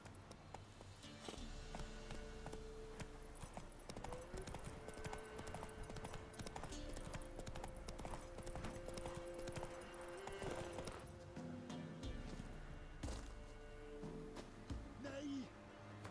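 Roach, the horse in The Witcher 3 video game, trots and gallops with repeated hoofbeats under game music and ambient sound, with a voice speaking faintly in places.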